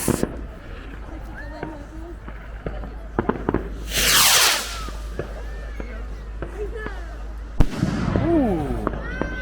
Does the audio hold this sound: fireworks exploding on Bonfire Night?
yes